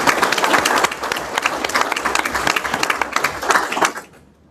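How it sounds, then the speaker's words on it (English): An audience at a board meeting bursts into sustained applause, many hands clapping densely for about four seconds before it stops abruptly. "please join me in a round of applause for Brad"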